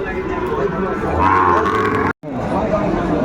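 A Sahiwal bull calf at a busy cattle market gives one long, close moo, with crowd chatter and voices around it.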